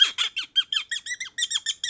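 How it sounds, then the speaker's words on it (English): A cork squeaks repeatedly as it is worked out of a bottle of Bruichladdich 16-year-old bourbon-matured single malt whisky, giving about a dozen short, sharp, high-pitched chirps in quick rhythmic succession, close and clear with no talk. "Squeaky cork time."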